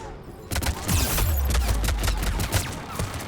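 Turret gunfire in the video game Mass Effect Legendary, rapid bursts of shots with heavy low-end booms, loud and continuous for a few seconds, with no talking.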